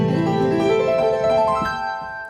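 Chords on a keyboard played without the damper pedal, the sustained tones sounding clearly and then fading as the keys are released, heard alone at close range.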